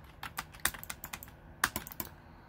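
Computer keyboard keys clack in quick, irregular bursts during a round of keyboard-and-mouse gaming, with sharper louder strikes near the start and again toward the end, no voices.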